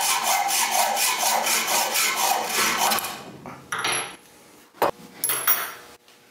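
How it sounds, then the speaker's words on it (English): Rapid, steady rasping strokes of a saw cutting chrome shelf dividers to length for about three seconds, then a few scattered clinks and scrapes as the piece is handled. "Now that the chrome dividers are cut to length"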